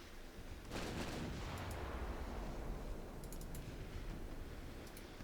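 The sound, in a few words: naval gunfire from warships in Ultimate Admiral Dreadnought video game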